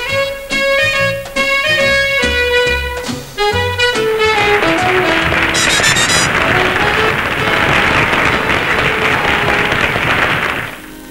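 A Paris circus gala crowd applauds a new horse rider, Brigitte Aubert; steady, dense clapping fills most of the stretch, rising after an opening of bright music that fades beneath it.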